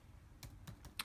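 Password typed on a computer keyboard: about five quick, light key taps in a short burst, faint and close, in an otherwise quiet room.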